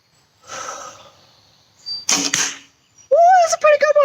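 An arrow is loosed from a bow with a sharp swish and thud, then a ringing twang follows, all close and clear with quiet gaps between the sounds.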